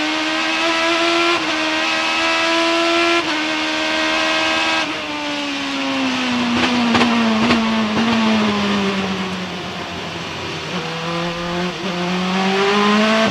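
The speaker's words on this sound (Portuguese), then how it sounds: "para você ouvir direitinho, saborear e curtir o som do motor Honda do carro do Scott Dixon" A Honda-engined IndyCar at the 2008 Saint Petersburg Grand Prix accelerates along the straight, its high-pitched engine climbing through the revs in repeated surges with gear changes, loud and close, then the pitch drops before rising again, with no talk.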